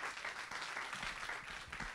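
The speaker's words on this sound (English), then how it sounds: "Please give a round of applause to Glenda Gloria" A forum audience at a hunger event claps to welcome Glenda Gloria, a brief, even patter of applause heard at a distance, fairly soft.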